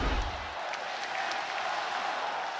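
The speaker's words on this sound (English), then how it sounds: "Crowd trying to be the difference." Crowd cheering at an NCAA men's volleyball match between Hawaii and Pepperdine, a steady roar of voices and applause from a large indoor audience, held at an even level with no clear peaks.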